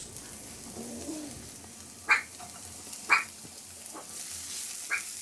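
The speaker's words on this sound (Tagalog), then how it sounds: "Maglagay ako ulit ng konting mantika sa kawali at igisa ko na yung bawang. Isunod ko na rin dyan yung sibuyas." Garlic and onion sautéing in a little oil in a frying pan, giving a soft, steady sizzle broken by a few sharp utensil clinks, with no talking.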